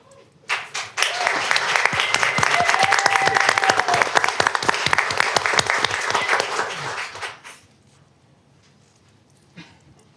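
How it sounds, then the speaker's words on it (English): A meeting audience applauds for Dr. Erica Reyes at a college board of trustees session, a dense burst of clapping that swells quickly, holds for several seconds, then thins out and fades. "Thank you for the applause."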